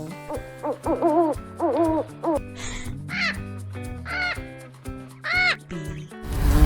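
An owl hoots in a series of short, clear calls spaced over several seconds, close and prominent, set over a light musical backing.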